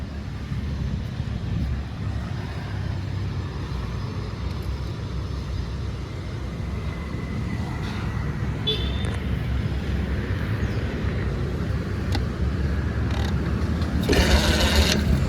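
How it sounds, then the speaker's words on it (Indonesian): A 1966 BMW R27 250cc motorcycle engine running after a kick start, giving a steady, low, close rumble that grows slightly busier toward the end. "Nah, sekali sela langsung nyala. Jadi motornya sangat sehat kalau ini. Ini untuk suara mesinnya."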